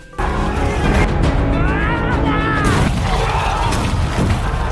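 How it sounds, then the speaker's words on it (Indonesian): Smoke bombs go off during a fortress assault in a war film, a dense, loud wash of rumbling blasts and crashing noise with chaotic shouting and voices mixed throughout. "Sembari melempar beberapa bom asap yang membuat kepanikan pasukan penjaga benteng"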